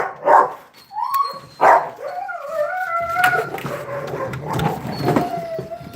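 Several dogs at a vegan dog rescue bark in sharp bursts, then whine and yip in rising, wavering howls, close and fairly loud throughout.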